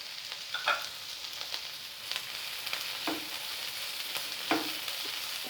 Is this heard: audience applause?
no